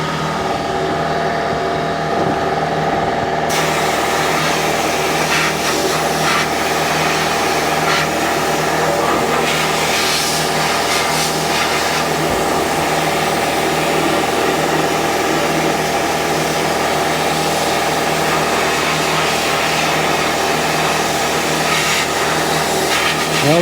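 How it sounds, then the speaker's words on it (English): Bead blaster running steadily while cleaning a rusty part from a Yamaha Twin Jet 90/100 jet ski, a continuous loud hiss and mechanical hum throughout with no pauses. "then I'll put it over in the bead blaster and we'll see what it looks like"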